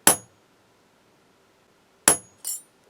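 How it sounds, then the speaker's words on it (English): Metal stamping tools struck with a hammer against metal, three sharp ringing clinks: one alone, then a pause of about two seconds before two more close together, with silence between. "I'm over here hammering metal shit on other metal shit."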